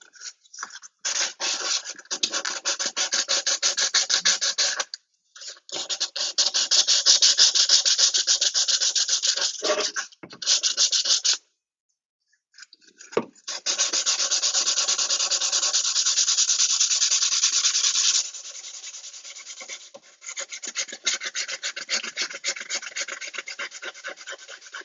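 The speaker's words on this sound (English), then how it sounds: "corners are hard to sand" Hand sanding of wood with folded sandpaper while building a ukulele, heard as close, loud, rhythmic rasping strokes in long bursts with a few short pauses and no voices.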